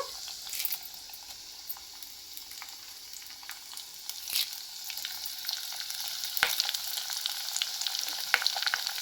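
Curry leaves and garlic frying in hot oil for a ginger chutney, a steady close sizzle with light crackles and a few sharper pops, occasional stirring, no voices.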